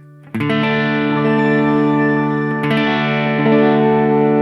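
Sustained electric guitar chords ringing out as a dry signal, with a second strum partway through, full and steady with some effect coloring the tone.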